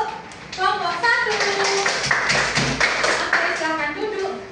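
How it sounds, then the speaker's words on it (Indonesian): A room of children claps for the first group in a classroom, a dense burst of hand claps lasting a few seconds with excited young voices mixed in. "tepuk tangan untuk kelompok 1"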